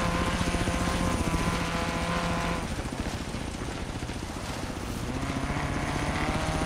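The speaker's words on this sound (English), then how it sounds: "Yeah, that helicopter is not the best driver." A helicopter flies in the Forza Horizon 3 racing game in an Outback setting, producing a loud, steady rotor throb with a pulsing chop that dips slightly midway and stays prominent throughout.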